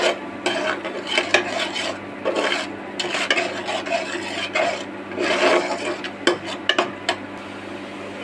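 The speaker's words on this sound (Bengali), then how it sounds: "হলুদ গুঁড়ো দিয়ে মশলাগুলো এবার একসঙ্গে খুব ভালো করে কষিয়ে নেব।" A spice paste of onion, garlic, chili, salt and turmeric is sautéed in a pan, with repeated rasping scrapes and rubbing strokes of a utensil in an irregular stirring rhythm, close and moderately loud.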